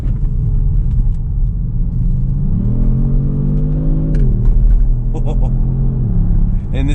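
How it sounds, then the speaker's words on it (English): A 2019 Kia Stinger GT RWD accelerating in sport mode in third gear, its engine droning loudly and climbing steadily in pitch, with a brief dip midway, under constant road rumble heard from inside the cabin. "I'm gonna throw it into third gear, and it handles super well."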